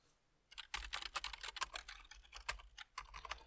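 Rapid typing on a computer keyboard configured for the ABNT layout, a dense run of close, crisp key clicks with short pauses, no voices present.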